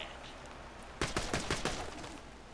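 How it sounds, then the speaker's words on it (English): Burst of machine gun fire in Borderlands 2, a rapid string of sharp close shots starting abruptly after a quiet lead-in and running about a second and a half before trailing off. "It's a machine gun."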